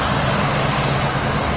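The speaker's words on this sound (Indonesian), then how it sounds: "CN235 buatan Indonesia yang menggunakan bahan bakar minyak sawit." Steady, loud drone of a CN-235 propeller aircraft's engines running on palm oil fuel, a continuous broadband roar with a low hum, close by and unbroken throughout.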